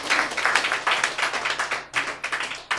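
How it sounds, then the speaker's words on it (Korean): Audience clapping in a hall as a couple of guests are welcomed, loud and close, with bursts of uneven claps pulsing over nearly three seconds and a brief dip in the middle. "박수로 맞이해 주시기 바랍니다."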